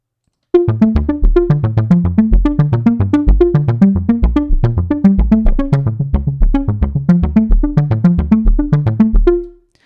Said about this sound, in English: So with the arpeggiator, it actually sounds like this.